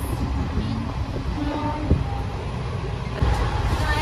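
A running train, a heavy continuous low rumble of wheels and carriages with steady rattling, heard from onboard, with faint voices in the background.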